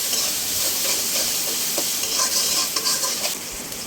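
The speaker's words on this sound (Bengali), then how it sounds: "আম্মু এখানে দিবে পেঁয়াজ বাটা আদা রসুন বাটা দিয়ে আবার ভালো করে লাড়িয়ে নিবে" Onion paste and ginger-garlic paste frying in a pan while being stirred, giving a steady close hiss and sizzle broken by scraping stir strokes for a curry with taro stolons, with no talking.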